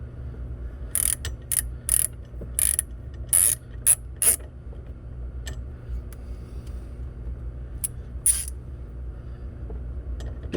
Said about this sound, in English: we'll use our hex socket with our ratchet